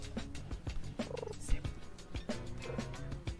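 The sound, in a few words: person imitating a cat purring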